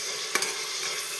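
Onions sauté in a pressure cooker for chicken curry, giving a steady, soft sizzle with a couple of quick spoon scrapes against the pot.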